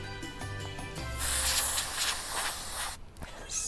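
An aerosol hair color spray can releases a hissing spray in a continuous burst of about two seconds, near and fairly loud, preceded by light clicking and followed by a short second spurt.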